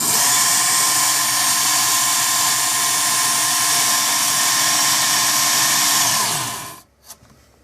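A WorkSharp Ken Onion powered knife sharpener runs with a steady, high motor-and-belt whine that holds evenly, then winds down and cuts off near the end, leaving a few faint clicks.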